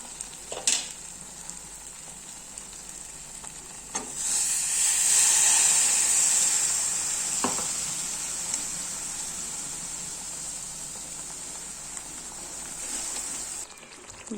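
Water is poured into masala frying in a kadai for amti, triggering a loud hissing burst of steam that slowly settles into a softer sizzle, with a few sharp clinks of a spoon against the pan.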